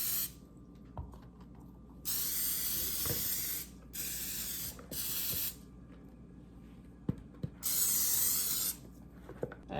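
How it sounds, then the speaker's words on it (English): Olive oil is sprayed onto bell peppers in bursts, five separate hissing sprays of one to two seconds each, close and fairly loud, with quiet handling noises between them. "I'm gonna all spray them with olive oil outside and inside."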